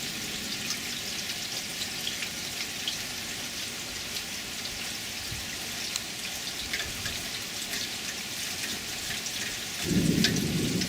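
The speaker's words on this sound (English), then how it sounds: "More rain." Steady rain falling over a humid home garden with apple and hazelnut trees, a dense even hiss of drops on leaves and surfaces, continuous throughout, with a heavier low patter near the end; no voices.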